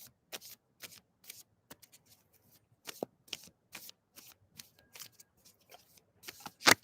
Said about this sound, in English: let me shuffle first before I timestamp